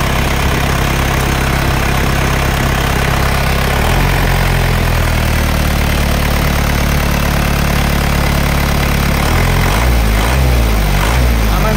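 A 1997 Isuzu Panther sporty diesel engine idles close and loud, a constant rumbling drone whose tone shifts a couple of times as the idle speed changes, with no talking.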